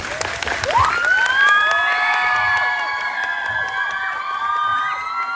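An audience bursts into applause and cheering, with loud whoops and high shouts rising over steady clapping that swells early and then holds close and full to the end.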